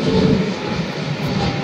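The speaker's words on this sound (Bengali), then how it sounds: "কুয়েত এয়ারলাইন্সের একটি বিমান উড্ডয়ন করছে" A Kuwait Airways airliner takes off at Shahjalal International Airport, its engines giving a steady, loud, broad roar that holds at a constant level throughout without pauses.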